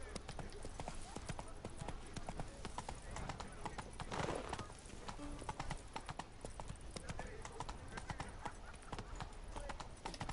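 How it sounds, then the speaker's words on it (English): Hoofbeats of the horse Roach in The Witcher 3 clatter in a steady clip-clop throughout, with a brief whinny partway through, under ongoing in-game speech and town crier chatter. "Whoa there, The Roach."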